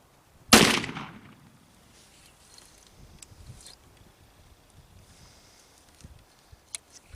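A single sharp, loud gunshot from an 1858 Remington Navy revolver, fired after the cylinder was reamed, cracks at the start and rings out briefly before fading into quiet outdoor background with faint knocks.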